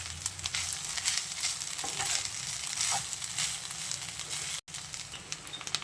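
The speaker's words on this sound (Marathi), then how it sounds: "आता वर थोडी कांद्याची पात घालून घेऊया आणि मिक्स करून घेऊया" Rice with spring onions fries and is stirred in a pan, a steady crackling sizzle with scraping stir strokes, close and continuous, with a brief dropout near the end.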